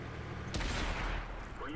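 A tank cannon fires in the World of Tanks console game, giving one sudden, heavy boom that rolls into a low, lingering rumble over a constant background of game noise.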